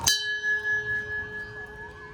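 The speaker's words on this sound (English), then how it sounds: "On my way out, I spotted this Quassy fun bell," A single strike of an amusement park fun bell at Quassy rings out with a sharp clang, then a clear metallic tone hangs and slowly fades over a couple of seconds.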